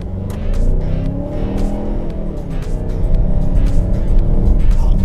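A Mazda CX-9 SUV accelerates toward 70 km/h, its engine and tire roar loud and close, building steadily over several seconds with a low rumbling undertone.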